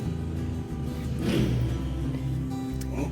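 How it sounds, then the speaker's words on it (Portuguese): A motorcycle revs out on a street, a moderate engine drone that swells in the middle and then settles, heard from a short distance indoors. "tem um cara desfilando de moto na rua"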